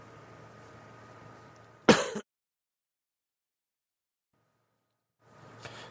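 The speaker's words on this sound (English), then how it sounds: "Sorry about that cough." A single harsh cough from a podcast host into a microphone, a sharp burst that ends in sudden dead silence before faint room noise returns.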